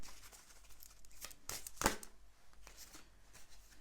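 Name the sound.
drawing a final tarot card from the deck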